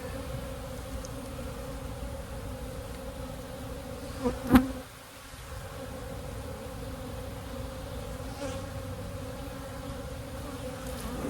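Honey bees drone steadily around an open hive, a soft, even buzz held for several seconds, broken midway by a brief sharp knock and a short dip before the hum resumes.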